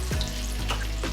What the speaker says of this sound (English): if you hear a little bit of extra sizzling going because it may have opened a little bit